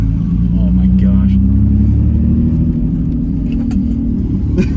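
A turbocharged V6 Mustang on a lifted setup drives at night, its engine droning loud and steady under boost with a deep rumble, as voices talk over it inside the car.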